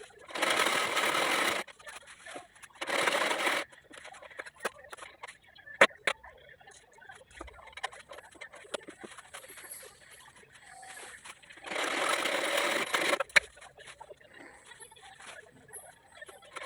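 A secondhand sewing machine stitches a band onto lehenga fabric, running in three bursts of steady whirring, the last one the longest, with quieter clicks and handling noises in the pauses between.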